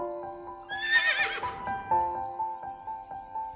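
A horse gives a loud, close whinny that rises and trails off, followed by clip-clopping hooves under steady background music.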